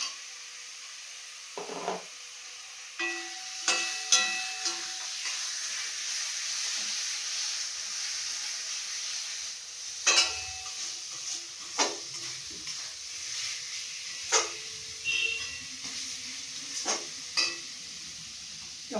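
Tomato frying and being stirred in a spiced pan for kach kolar kopta, soft sizzle under scattered scrapes and knocks of a spoon against the pan, close and moderately quiet with no talking.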